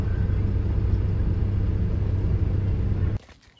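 A large horse lorry manoeuvres out at a horse show grounds, giving a steady, loud low engine rumble close by for about three seconds before cutting off abruptly into quiet.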